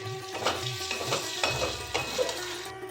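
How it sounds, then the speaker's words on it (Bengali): Spice masala with soybean chunks and potato frying in oil, giving a steady close sizzle with rhythmic stirring scrapes of a spatula against the pan. "সয়াবিন আলু দিয়ে এবার মশলাটা কষিয়ে নেব মশলা থেকে তেল ছেড়ে দিচ্ছে"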